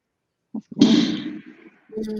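Fireworks going off outdoors in the distance: one long booming, crackling burst that trails off over about a second, bracketed by softer pops and low thuds, with no talk over it.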